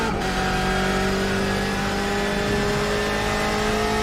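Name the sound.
race car engine in a Le Mans racing video game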